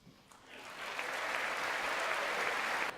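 Sustained applause from women in Congress dressed in white, celebrating, rising quickly and holding steady at moderate level for about three seconds with no talk over it.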